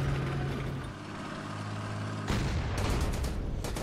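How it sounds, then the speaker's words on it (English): Panzer IV tank in the video game Red Steel: a steady low engine rumble and clanking tread noise, then a loud boom near the middle followed by a burst of sharp, rapid gunfire close by. "okay, this is a Panzer IV"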